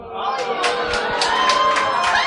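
A live audience in a New York City venue reacts to Whoppers candy at a Halloween candy show, loud mixed booing, shouting and cheering from a crowd filling the room throughout.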